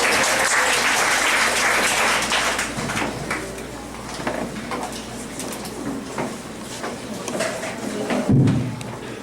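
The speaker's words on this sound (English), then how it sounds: "Let's give her a round of applause" An audience at a university gathering applauds for a Vice Chancellor, loud and dense at first, then thinning into scattered claps with a few thumps near the end.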